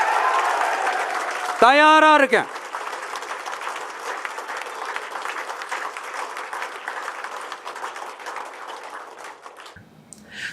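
A politician and those around him clap at a political gathering, a dense, steady wash of applause with a brief rising-and-falling whistle-like tone early on and a short spoken line near the end.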